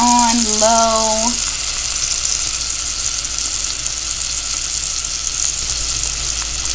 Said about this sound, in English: So while this is searing